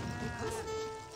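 Cattle lowing in a real-time strategy game, a short moo with a bleat-like tone over a busy game soundscape, fairly quiet and brief.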